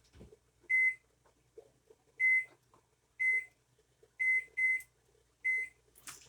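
Kitchen timer set for five minutes while a stir fry cooks, giving six short, bright electronic beeps spaced about a second apart, near and clear over a quiet room.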